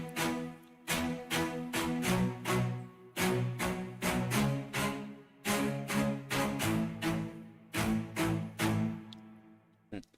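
Cello spiccatissimo pattern programmed in FL Studio, a string of very short, crisp bowed notes in grouped rhythmic bursts with brief pauses between phrases, close and clear with no voices over it.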